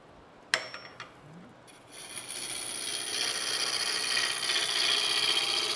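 A wood lathe tool cuts into a vase blank that is not yet round, starting with a few sharp knocks and then settling into a steady rising rasp and scrape as the cut continues, close and fairly loud.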